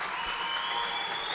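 Home crowd at a girls' D-II regional final basketball game cheering and applauding in a steady roar, with a whistle-like tone sustained across the short stretch and no clear pauses.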